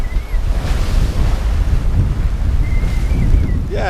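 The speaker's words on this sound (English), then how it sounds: "The wind has picked up a little bit. We are about 27, 28 knots of wind" Strong wind of roughly 27 to 28 knots roars across the microphone while a sailboat runs through open ocean swell, with waves rushing and splashing against the hull, loud and continuous and close by, without any talking.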